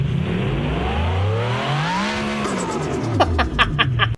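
A Renault 5 Turbo engine in a racing video game revs up and back down in one slow, smooth sweep, loud and close, then gives a few brief sharp bursts at the end.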